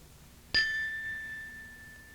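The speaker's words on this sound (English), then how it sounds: "Fine, clear as a bell. It is a bell." A single bell struck once, a sharp clear strike that rings on with a sustained pure tone slowly fading, alone in a quiet room.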